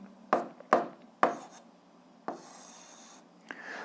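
Pen scratching on paper while working an algebra exercise: several short separate strokes, close and crisp, with a longer scribble near the end and quiet gaps between.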